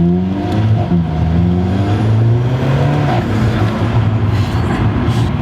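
An Alfa Romeo 4C's four-cylinder engine revs under acceleration from inside the car, a loud sustained drone whose pitch climbs and drops with gear changes, running continuously without talk.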